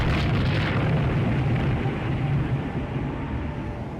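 Naval shells hitting enemy battleships during a fleet battle in the game Rule the Waves 3, a loud, continuous rumbling roar of impacts and explosions that eases off slightly toward the end.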